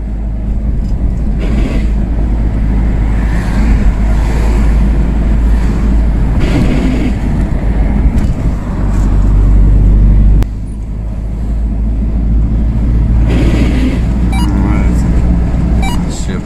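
Grinding from the suspension of a 2019 UAZ Patriot while driving, heard from inside the cabin as a continuous low rumble of road and engine noise with rough scraping surges throughout.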